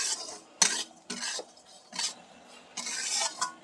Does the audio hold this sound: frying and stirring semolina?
yes